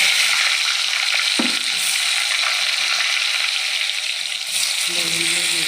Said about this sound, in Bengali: মাছ ভাজা তেলে আমি কালো জিরে ফোড়ন দিলাম, কেটে রাখা আলুগুলো দিয়ে দিলাম